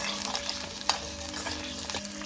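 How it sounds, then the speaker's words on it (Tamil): Onion, garlic and ginger sauté in a pan for a mutton lung fry, giving a steady close sizzle with a few light stirring taps and scrapes and no voices. "இந்த மூணையும் நல்லா வதக்கிக்கலாம்."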